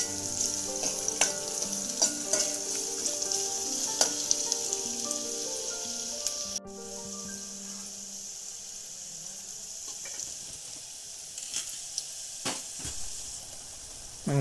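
Chopped onions sautéing in oil in a pan while being stirred, a steady loud sizzle with scattered scraping clicks; the frying dips briefly halfway, then carries on.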